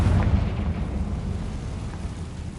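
A fiery Confringo spell blast in Hogwarts Legacy, heard as a loud, low rumbling burst that swells at the start and rolls on as a sustained, dense roar through the whole moment.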